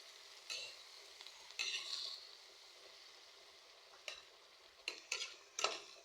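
Ginisang ampalaya, sautéed bitter gourd, being stirred in a pan: soft scraping strokes with a spatula come in scattered bursts over a faint, steady sizzle, with no one talking.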